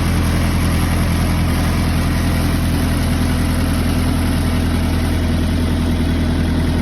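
An old John Deere tractor engine drones steadily at a low, even idle-like rumble while discing a field lightly, constant and close with heavy vibration throughout.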